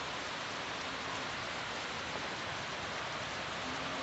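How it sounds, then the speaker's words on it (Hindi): Heavy rain pours down in a dense, unbroken hiss, loud and constant with no other sounds. "कितनी भयंकर बारिश पड़ रही है"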